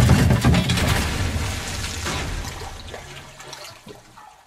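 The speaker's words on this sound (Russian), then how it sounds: "Где-то там что-то вода какая-то." Water rushes and splashes in the Amnesia: Rebirth video game, a loud gushing flow that slowly fades over a few seconds with a few scattered drips toward the end.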